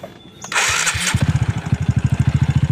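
A motorcycle engine with a freshly tuned N-Pro carburetor starts up and settles into a steady, pulsing idle, then revs in quick repeated throttle blips, close and loud with no talk.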